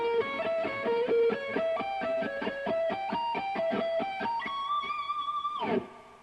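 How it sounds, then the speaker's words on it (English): An electric guitar plays a fast blues lick in a diminished style, a rapid run of clean picked notes ending on a held note that bends down and cuts off. The guitar sounds alone and close. "it's like a blues lick played diminished style, and it goes"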